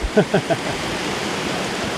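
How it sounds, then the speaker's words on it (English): Clear Creek in California, a year-round stream with Class 5 rapids, gives a steady, even rush of flowing water, with a few brief voice sounds near the start. "This is an awesome year-round creek."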